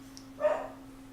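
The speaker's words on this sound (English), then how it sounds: "Doggos are barking. It's ambient noise." Dogs bark somewhere in the background, a single brief muffled burst rising and fading within about a second beneath a steady electrical hum.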